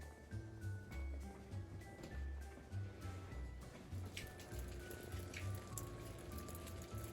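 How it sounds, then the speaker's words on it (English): Freezing rain and ice pelting down outside during a winter ice storm, a faint, steady patter of drops and icy ticks that holds throughout. "we're still getting ice and like freezing rain"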